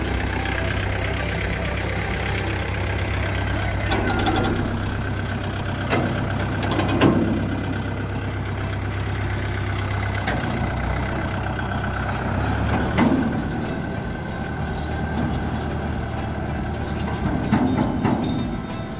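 A heavy diesel tractor engine idles steadily and close by, with a low, constant rumble and faint high beeping throughout.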